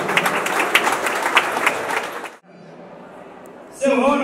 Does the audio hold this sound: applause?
yes